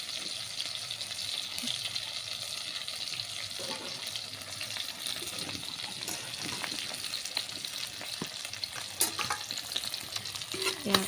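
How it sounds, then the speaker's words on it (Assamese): Onions sizzle steadily in hot oil with crushed ginger and garlic over a fire, a constant crackling hiss with occasional sharper pops and scraping stirs, close by with no talking. "পিঁয়াজখিনি অলপ ভালকৈ ভাজি ল'ম"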